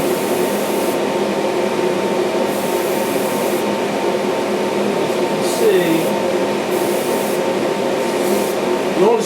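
Alclad chrome paint hisses steadily from an airbrush onto a scale model, a constant, fairly loud airy spray with slight pauses and a faint squeak midway.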